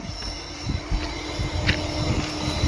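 Train passing on a railway track in hilly, forested country, a steady close rumble of wheels with faint squeals and clicks, no talk.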